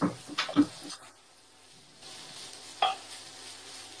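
Spinach frying and steaming in a pan, with a soft sizzle under a few clattering stirring bursts at the start and another brief scrape near the end, close and fairly quiet.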